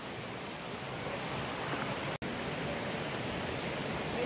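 Steady, broadband rush of water at Laktas Falls, a continuous roar with no pauses apart from one brief dropout near the middle.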